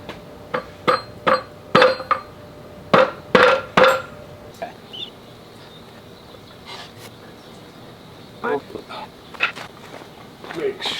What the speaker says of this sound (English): Might need a mallet